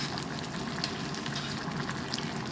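Beef stir fry sizzling in a pan, a dense, steady crackling hiss at moderate level with no pauses or voices.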